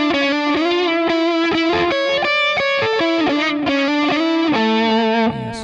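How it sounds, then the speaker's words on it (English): Lead guitar plays a fast melodic line through a Digitech RP1000 multi-effects unit with a distortion pedal in front and light delay, loud and sustained, notes ringing into one another and trailing off briefly at the end. "So you can see there's a distortion pedal in front, and we got a little delay on it now."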